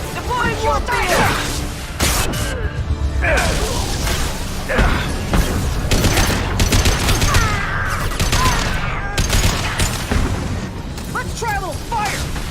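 Rapid bursts of weapon fire and booming impacts in the sci-fi shooter Mass Effect 2 crackle through a combat scene, with characters talking over the repeated shots.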